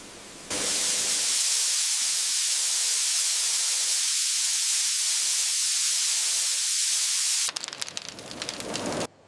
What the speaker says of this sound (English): Flavors like cocoa or licorice are sprayed on.